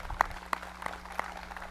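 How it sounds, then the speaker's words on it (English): A few scattered hand claps from a small press conference audience, faint and brief, spaced irregularly rather than forming full applause. "So we'll give another round of applause for everyone on that."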